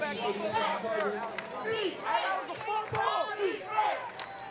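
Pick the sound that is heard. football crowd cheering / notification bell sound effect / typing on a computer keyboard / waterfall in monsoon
football crowd cheering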